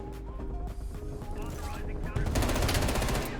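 A FAMAS rifle in Black Ops Cold War opens up with rapid burst fire, rising from scattered shots into a loud, fast rhythmic volley of cracks, with faint voices underneath.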